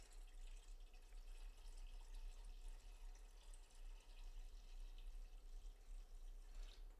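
Water is poured into a batch of homemade blackberry wine to top up the level, a faint continuous splashing trickle that runs evenly throughout with no voices.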